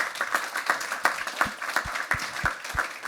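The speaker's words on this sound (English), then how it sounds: "A little round of applause for our panel here" A small audience claps for a hospitality panel discussion, a moderate, fairly close patter of hands with a few heavier individual claps standing out.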